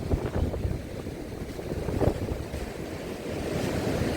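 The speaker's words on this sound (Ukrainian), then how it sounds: "Да, оце море, оце дає." Sea waves breaking on the Odesa shore in December, a steady washing surge with wind buffeting the microphone throughout, no voices.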